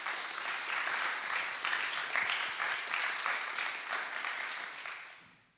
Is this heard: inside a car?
no